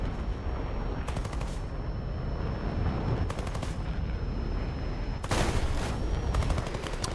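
Hispano cannons fire bursts at an F9F in a jet combat game, heard as dense, loud rapid-fire volleys in three separate bursts over a steady engine roar.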